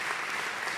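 Applause at a University of Zaragoza San Braulio ceremony, a brief, dense burst of clapping from a hall full of people, even and steady throughout.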